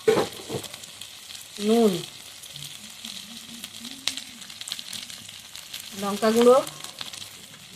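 Masala spices sizzle and fry in a pan with ginger-garlic paste, a soft continuous hiss running under a woman's brief spoken remarks.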